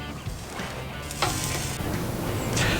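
Ahi tuna searing over hot coals, a loud, close, continuous hiss of sizzling with slight surges, no voices.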